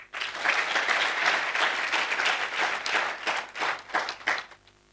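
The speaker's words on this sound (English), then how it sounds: "Shall we please clap for them?" An audience at an innovation competition breakout session applauds lead innovators in the bronze category, loud close clapping that swells quickly, holds for several seconds, then tapers off.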